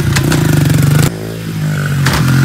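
Honda CRF 70 dirt bike engine revving loudly up close, a rapid pulsing buzz for about a second before dropping and then climbing again, with no talking.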